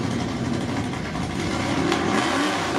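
Chevrolet Camaros of different generations racing, a steady broad engine roar holding throughout with a brief sharp transient near the end.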